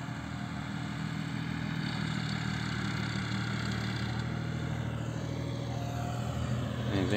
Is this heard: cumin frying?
no